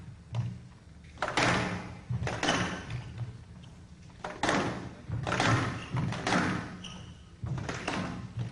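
Squash ball struck in quick racket volleys during a rally, giving a run of sharp, hollow thuds and taps spaced by short gaps, with squeaks and movement in between and no talk.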